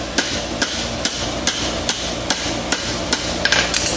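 A farrier hammers a bar shoe on an anvil, striking sharp, ringing metallic blows at a steady pace of roughly two per second, close and loud, with a quicker cluster of hits at the end.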